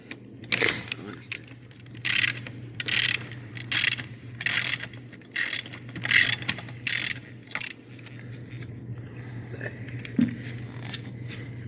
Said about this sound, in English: Just love ratchets. Can't tell if you're tightening or loosening them.